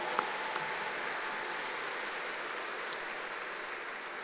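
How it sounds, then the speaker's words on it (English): A large audience at a Women in Aviation and Aerospace Day event in Oklahoma gives applause, a steady, fairly faint wash of clapping that sounds distant and lasts about four seconds. "That deserves a round of applause."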